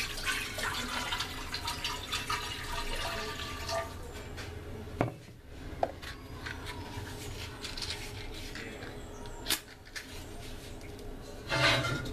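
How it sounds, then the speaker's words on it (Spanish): Water is poured into a large pot in a kitchen while making quesillo, a quiet continuous splashing rush with a few sharper knocks and clatters, close by and with no talking. "Vamos a echar agua."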